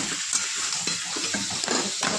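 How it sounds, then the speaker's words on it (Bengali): Fried fish head being stirred into a pan of frying spiced Gobindobhog rice for muri ghonto, close continuous sizzling broken by brisk stirring scrapes and light clatter. "মাছের মাথা ভেজে রেখেছিলাম, এটা দিয়ে দিলাম।"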